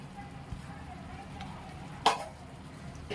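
Garlic potatoes are stirred and mixed in a frying pan, with a soft steady sizzle underneath and one sharp scrape or clack of the spoon against the pan partway through.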